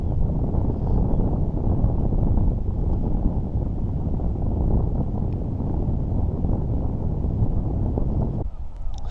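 Steady wind blows on a fishing pier by the sea, a dense, constant rushing roar buffeting the microphone throughout, dipping briefly at the very end.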